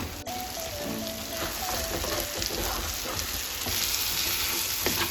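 Scrambled egg sauce fries in a pan while being stirred, giving a dense, steady, loud sizzle throughout with occasional scraping, close by and without talk.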